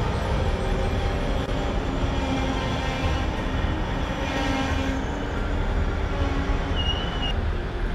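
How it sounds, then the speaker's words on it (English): A train pulling into Olhão station in Portugal rumbles steadily at close range, with a continuous low mechanical drone and faint squeals of wheels slowing along the track. "The train has pulled in."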